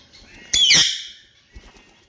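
A young parrot lets out one loud, harsh squawking call, followed by a few faint, brief chirps nearby.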